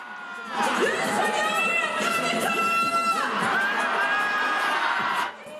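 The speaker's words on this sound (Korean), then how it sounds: "시민들은 노래에 맞춰 환호성과 구호를 외칩니다." A crowd at a street protest rally outside the National Assembly in Seoul cheers and shouts along with loud amplified pop music, a dense and continuous roar lasting several seconds before dropping off.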